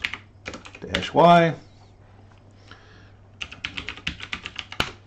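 Quick bursts of computer-keyboard typing as a terminal command is entered, crisp key clicks clustered near the start and again in a brisk run toward the end, with a short spoken word in between.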